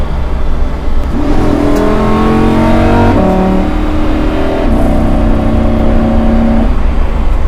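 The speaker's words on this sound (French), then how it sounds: "Et tu sens qu'elle suce l'air. Incroyable. Elle charge." An Audi R8 ABT XGT revs loud and close, its engine note climbing in stepped, rising harmonics through the gears with intake roar throughout, and no voices over it.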